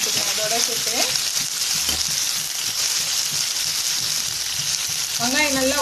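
Chopped onion sautés in a hot pan for chutney, a continuous loud sizzle and crackle with occasional stirring scrapes, and a voice talks briefly at the start and end.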